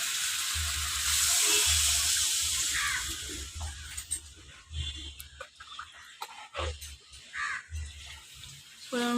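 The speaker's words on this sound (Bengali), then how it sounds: "তারপরে জল দিয়ে দেবে অল্প।" Water is poured into spice paste frying in a pan, a bright rushing splash and hiss at first that fades into softer bubbling sizzle with scattered scrapes and clinks.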